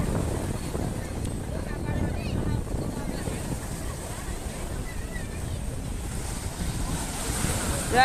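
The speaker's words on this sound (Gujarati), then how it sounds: "દરિયો ગાંડો છે દરિયો જો મોજું આવે" Rough sea waves at Porbandar surge and crash continuously amid wind buffeting the microphone, with people talking over the roar.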